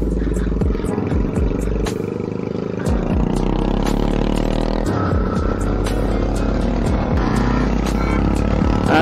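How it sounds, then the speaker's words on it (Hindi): A Bajaj Pulsar 220 with an aftermarket exhaust rumbles close by while being ridden, its engine note rising and falling through repeated revs, with light clatter along the way. "देख रहे भाई एक नंबर साउंड दे रही है बाइक इसकी"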